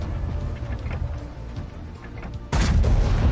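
Tank cannon fire in the video game World of Tanks, with a sudden loud booming shot striking near the end over a rumbling backdrop of battle noise.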